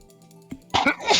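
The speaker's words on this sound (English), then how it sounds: "I want to sneeze twice." A sneeze from a person playing a video game: a brief sharp intake, then a loud burst of breath at close range.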